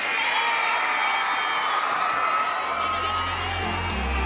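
A large outdoor crowd at a music festival on a town square in Amersfoort cheers and whoops continuously, with children's shouts, and a deep bass-heavy music beat kicks in near the end.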